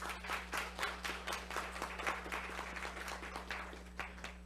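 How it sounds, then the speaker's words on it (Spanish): Faint applause from a small audience at a panel discussion on preventing sexual and gender violence in workplaces, a scattered patter of claps over a steady electrical hum. "Un aplauso."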